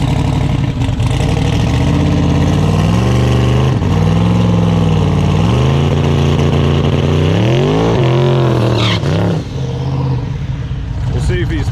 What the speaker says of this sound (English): All right, the Buick Regal's gonna make a pass.